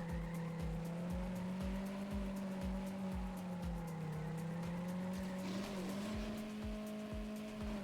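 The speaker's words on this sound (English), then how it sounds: "The drift came at a very bad moment." A race car drifting in a Trackmania-style racing video game, a steady high engine drone with a long continuous tire squeal that dips in pitch as the car slides, loud and alone.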